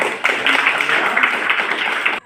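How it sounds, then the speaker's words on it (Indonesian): A classroom of students clapping their hands together in a dense burst of applause, close and loud, lasting about two seconds before cutting off abruptly. "Ya, tepuk tangan."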